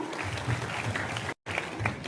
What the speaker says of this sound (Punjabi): ਪਟਾਲਾ ਪੁਲਿਸ ਦੇ ਨਾਮ ਤੇ ਜ਼ੋਰਦਾਰ ਤਾੜੀ ਜ਼ਰੂਰ ਮਾਰ ਦਿਓ